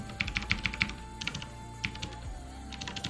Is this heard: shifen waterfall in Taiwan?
no